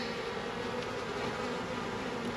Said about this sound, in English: Kind of squashed one bee there.